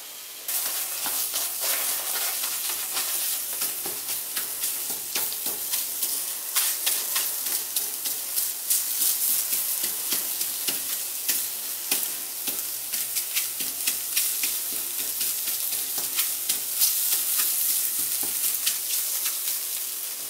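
Scrambled egg sizzling and setting in a hot pan with cauliflower fried rice, a constant loud hiss and crackle with faint spatula scrapes, close by, and no voices.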